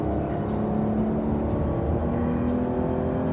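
A 2025 Porsche 911 Carrera sports car drives on a racetrack, its engine a steady, loud, continuous hum and whir from close by, with no voices.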